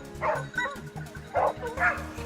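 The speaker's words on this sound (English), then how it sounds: "The hunting dogs are barking again." A pack of hunting dogs barks and yips repeatedly during a wild boar hunt on a Texas farm, the calls overlapping in an uneven rhythm at moderate distance with some higher whimpering mixed in.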